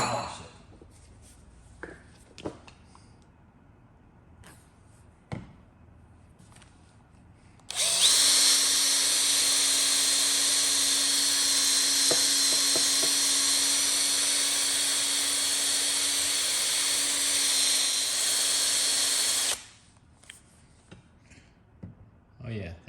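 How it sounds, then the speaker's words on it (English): Rotary tool polishing a turned aluminum pinball part for a Gorgar machine, a loud steady high-pitched whine running about twelve seconds, starting and stopping abruptly, with quiet handling noises before and after. "let's polish it"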